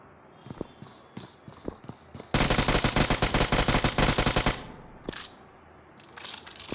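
Rapid automatic gunfire in the battle royale game BGMI bursts out loud and close for about two seconds, a dense rattling volley, with scattered single shots and thuds before and after.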